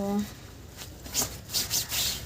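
A thick jacket is scrubbed by hand during washing, making short rough rubbing bursts in an uneven rhythm. A brief voice sounds at the start.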